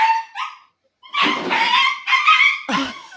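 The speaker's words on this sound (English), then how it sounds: "That was the puppy" A puppy lets out sharp yips and barks while playing with a cat indoors, several loud close bursts after a brief pause, excited and uneven in rhythm.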